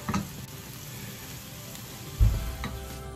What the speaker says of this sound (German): Der Zwiebel wird in Öl glasig angeschwitzt.